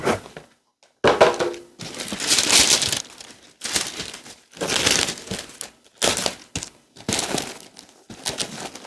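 Packaging for a Hermès Herbag 31 is unwrapped in close, crisp bursts of crinkling and rustling, separated by short pauses.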